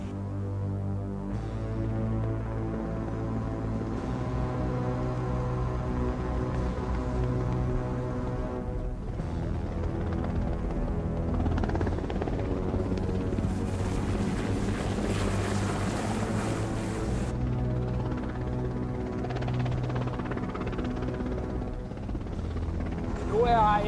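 Danish rescue lifeboat MRB 34 from Hvide Sande motoring out past the surf over the offshore sandbars, a steady loud engine drone and throbbing hum with water rush, overlaid by radio-style talk and music throughout.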